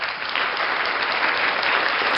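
A canned applause effect played from a V8 sound card, a dense, even burst of crowd clapping that holds steady at a fairly loud level for a couple of seconds.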